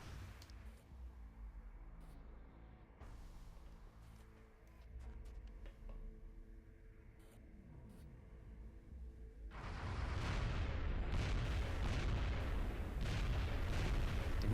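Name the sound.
sectopod reaction fire in video game XCOM Enemy Unknown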